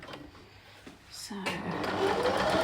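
A sewing machine stitches a nine-patch quilt block, starting faint and building into a steady, continuous motor whir that runs close and fairly loud through the second half, with a voice heard earlier.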